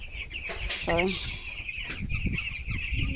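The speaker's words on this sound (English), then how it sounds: "these are our broiler hens." Broiler hens cluck and chatter close by in a farm coop, with a steady background hum and a brief spoken word.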